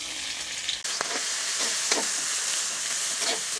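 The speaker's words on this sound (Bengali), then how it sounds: "আর তেলটা যখন পরিপূর্ণ একেবারে গরম হয়ে যাবে তারপর পেঁয়াজ ঢেলে দিব" Onions drop into hot soybean oil in a wok and set off a sudden loud, continuous sizzle that stays strong and close for the rest of the moment, with a few brief stirring scrapes.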